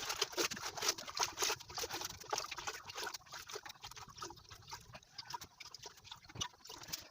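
Water trickling and splashing as cookware is washed in a village kitchen in Africa, steady close dribbling and patter over about seven seconds with faint background noise.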